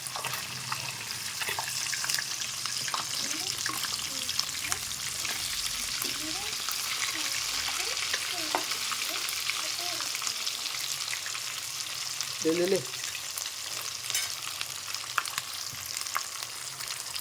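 Pond fish frying in plenty of oil, turned until reddish-brown, giving a steady broadband sizzle with soft bubbling and occasional stirring clatter, close and continuous throughout.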